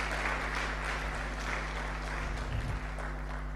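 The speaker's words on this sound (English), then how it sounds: "Let's continue clapping for her as she takes her seat" Audience at a public leaders' alumni network gathering clapping as a woman returns to her seat, a steady, fairly quiet wash of applause over a low hum, easing slightly toward the end.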